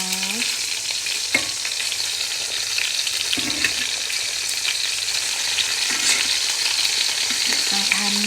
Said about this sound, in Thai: ทอดจนเขาเป็นสีน้ำตาล